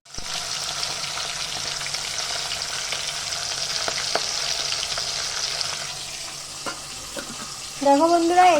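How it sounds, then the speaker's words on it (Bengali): Onions frying in a pan as tempering for boiled lentils give a steady, close sizzle that holds for several seconds, easing slightly near the end as louder clinks and brief tonal sounds come through. "ওই যে পেঁয়াজ ভাজা করে ডালটাকে ফোড়ন দিয়ে নেব"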